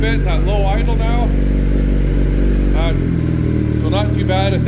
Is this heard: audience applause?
no